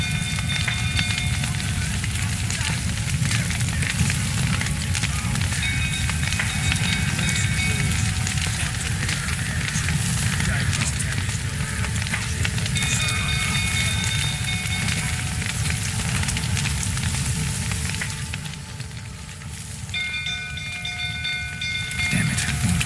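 Castle fire burning in The Witcher 3, a loud, steady roaring crackle of flames lasting throughout with faint tonal game sounds over it, easing slightly near the end.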